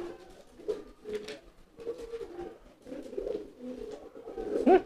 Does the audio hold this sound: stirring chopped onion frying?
no